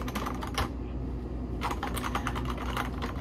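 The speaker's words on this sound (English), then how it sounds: "But I love this keyboard." Computer keyboard with a light, typed on in quick clattering bursts of close keystrokes, steady and fairly quiet, with no talking.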